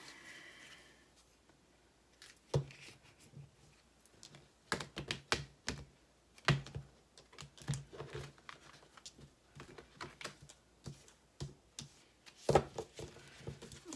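Thick angel love cards are shuffled by hand, giving irregular soft slaps and riffling clicks in scattered bursts, fairly close and quiet, with no talk.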